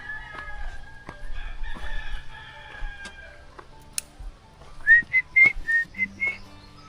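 Farm birds on a rural plot, with a rooster crowing in a rising, repeated call near the end, preceded by scattered clucks, chirps and soft clatter at moderate distance, with no talking.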